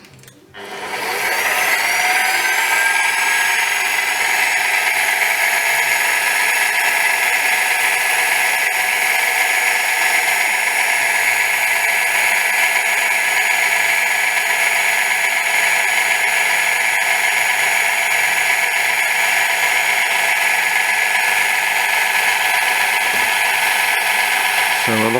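A lathe starts up and runs steadily while turning a chewed-up Yamaha XS650 axle castle nut, giving a loud, continuous whine with a sustained tonal hum that holds nearly unchanged throughout.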